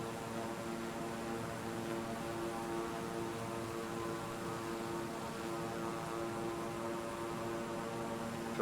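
A propeller aircraft's engine holds a steady, even drone with a constant tonal hum throughout as it flies over Los Angeles in Microsoft Flight Simulator 2020, with no one talking.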